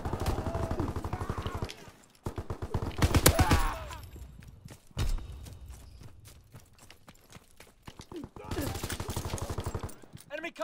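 Rapid automatic gunfire in a Call of Duty video game, with sharp bursts of rattling shots in quick clusters, brief pauses between volleys, and game sounds filling the gaps.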